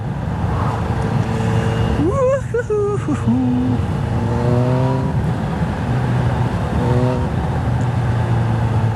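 A supercharged Kawasaki Z H2 motorcycle engine drones steadily at speed with a rising and falling pitch, a faint supercharger whine over the rumble, and a voice talking in the background.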